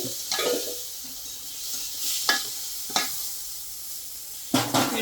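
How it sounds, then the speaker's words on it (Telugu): Chicken pulao with gravy and green chillies is stirred in a pan, a soft sizzle underlying several distinct scraping strokes of a spoon against the metal at irregular intervals. "అలా కలుపుతానే ఉండాలి."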